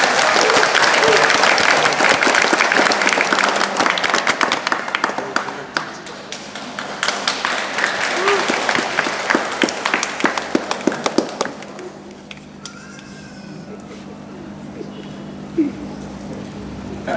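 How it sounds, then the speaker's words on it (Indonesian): Wedding guests at a Batak and Manggarai ceremony break into loud, dense applause that thins into scattered claps and fades to a quiet room. "Mari kita berikan tepuk tangan."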